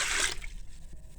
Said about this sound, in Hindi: इसमें पानी शामिल कर देंगे।